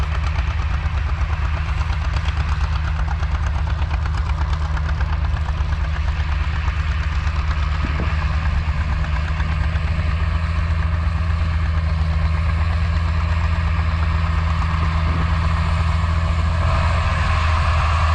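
A John Deere 8300 four-wheel-drive tractor pulling a big cross disc idles nearby, with a steady, loud, continuous low diesel rumble that runs unbroken and carries no talk.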